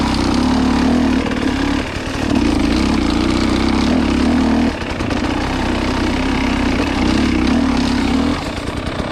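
A KTM motorcycle engine chugs along steadily while riding on a trail, a close, continuous mid-pitched drone with a few brief dips in load.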